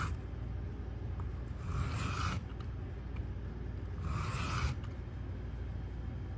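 A Richter knife being sharpened, two separate rasping strokes of the blade across the stone, each about a second long, close and fairly quiet over a steady low background hum.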